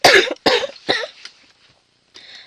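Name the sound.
allergic cough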